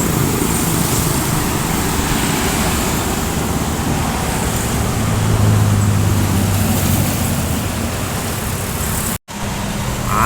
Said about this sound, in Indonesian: Ada lagi ya bus dari arah Terminal Lebar, ada Sun Pekanbaru.